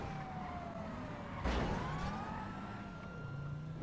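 A police car siren from the video game GTA V wails with rising and falling tones, moderately near, while a car engine hums underneath and a brief crash-like burst cuts in midway.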